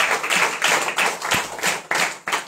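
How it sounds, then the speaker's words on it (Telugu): A church congregation claps in praise during Sunday worship, a loud, fairly steady run of hand claps over a couple of seconds with no talking. "చప్పట్లు కూడా స్తోత్రం చెప్పండి"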